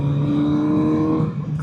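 A Kawasaki Z900RS four-cylinder motorcycle engine with stock exhaust revs hard and high, a brief, loud, close-up snarl with a rising whine.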